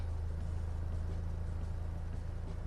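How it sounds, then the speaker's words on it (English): A Volkswagen MK8 Golf GTI engine idles with a steady, low, droning rumble that stays constant and fairly loud throughout, with no talking over it. "So if we start the engine."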